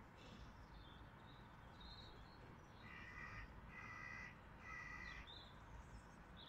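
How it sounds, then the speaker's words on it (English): A crow caws several times in a row from some distance over steady outdoor background noise on a morning in Swansea, each harsh call clearly separated. "Well, actually, that was a crow."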